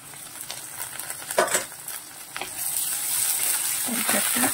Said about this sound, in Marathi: कांदा परतत असतानाच आपल्याला टमाटर घालायचं आहे.